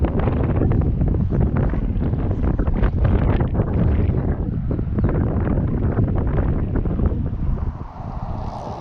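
Strong wind roars and buffets the microphone on a fishing bank in Florida, a loud continuous rush that eases slightly near the end.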